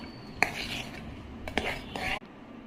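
A spoon stirring ghee-fried cashews, pepper and green chilies into katte pongali, with a few sharp metallic clinks against the pot over soft scraping, and a quiet voice murmuring.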